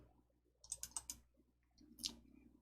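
A computer mouse gives quick, quiet clicks, a tight cluster of rapid double-clicks followed by one more click a moment later in a hushed room.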